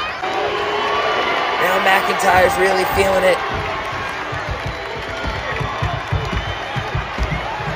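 A WrestleMania crowd cheers and roars during a Drew McIntyre vs Gunther match, loud and continuous, swelling in the middle. A commentator talks over it throughout.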